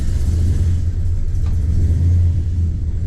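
A 1965 Plymouth Satellite's engine rumbles low and steady as the car is driven slowly, a loud close drone with a slight swell partway through and no talking.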